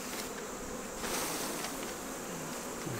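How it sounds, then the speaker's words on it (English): Dense, steady buzzing of many honey bees fills the air, continuous and close, with no voices. "Pretty good bit of bees."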